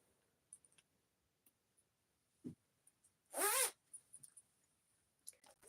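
A single quick zip rings out from the zipper on a sewn zipper pocket, brief and close against an otherwise quiet background, with scattered small handling clicks and taps around it.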